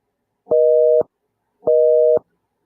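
A telephone busy signal on a number that does not work: two steady, loud electronic tone pulses about half a second long, separated by silence, heard alone and close.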